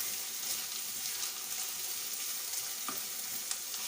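Paneer do pyaza cooking in a pan until light brown, a constant moderate sizzle with faint occasional stirring scrapes and a couple of light knocks, close and even, no talking.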